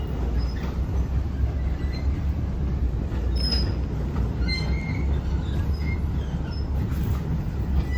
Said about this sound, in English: look how slow that train is going.